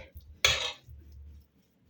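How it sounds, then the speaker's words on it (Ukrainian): A single metallic clank as a frying pan is set down on a stove, followed by a low, faint rumble and near silence. "Ставлю сковорідку я і буду обжарювати"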